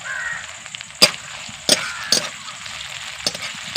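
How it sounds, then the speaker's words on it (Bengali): Ginger and garlic paste frying in a pan while fish kaliya is being prepared, with a low steady sizzle broken by a few sharp utensil knocks, close and without speech. "এবার আমি আদা রসুনকে ভেজে নেব আদা রসুনের যে কাঁচা ভাবটা আছে এটা কেটে যাবে ভেজে নিলে"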